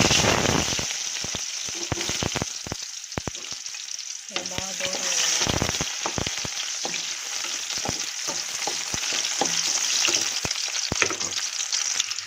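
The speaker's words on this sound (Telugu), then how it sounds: "దీంతో రెండు ఆయిల్ హీట్ ఎక్కాక చిన్నది ఆనియన్ కట్ చేసుకున్నాం" Chopped onion frying in hot oil for a fenugreek chicken dish, a continuous bright sizzle punctuated by sharp crackles and occasional stirring scrapes of the utensil against the pan, close and steady throughout.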